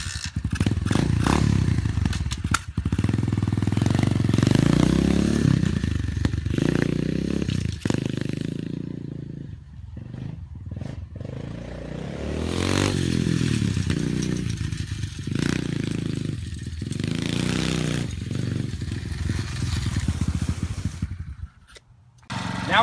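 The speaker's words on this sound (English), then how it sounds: "first we're going to ride the 125cc." A 125cc pit bike ridden nearby, its small engine buzzing and revving hard in surges, dropping off between bursts with some clatter, loud throughout and no voices.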